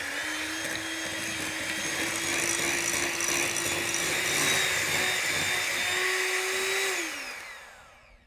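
An electric mixer whirs steadily while creaming butter in a bowl for a sponge cake, a continuous motor whine that holds near and fairly loud before winding down and stopping near the end.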